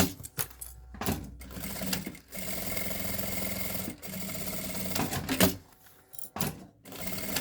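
A sewing machine stitches around a small handbag in steady whirring runs, stopping and starting with brief pauses and clicks, close and fairly quiet.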